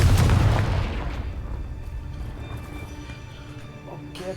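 A Confringo fire spell explodes in the video game Hogwarts Legacy, a loud booming blast at the start that rumbles and fades into a lingering game ambience over several seconds.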